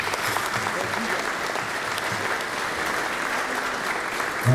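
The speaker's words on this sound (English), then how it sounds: "So I want to give you guys a big round of applause." Steady, fairly soft applause from a crowd at a family reunion, an even wash of clapping that runs without a break through the whole stretch.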